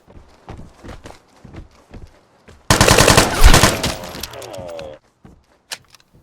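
Scattered footsteps and small clicks, then a loud burst of rapid automatic fire from an L85A1 rifle in the video game Vigor lasting about two seconds, followed by a few sparse impacts.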